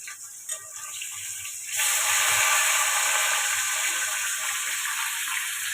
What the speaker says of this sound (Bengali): বন্ধুরা দেখছো মাছ ভাজছি, ভাত বসিয়েছি।